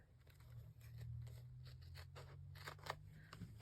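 Scissors snipping along the edge of a decorated paper page: a quiet run of small blade clicks and slides close to the microphone, with no voices.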